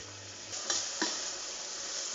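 Garlic, ginger and onions sizzle quietly in oil in a pan, a soft steady hiss with a couple of sharp utensil clinks as they are stirred.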